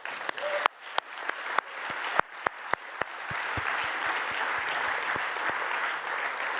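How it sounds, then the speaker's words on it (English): Audience applause at a Samen Tegen Racisme climate justice event, a steady wash of many hands clapping with a few louder nearby claps standing out, continuing at an even level throughout. "A round of applause for everyone."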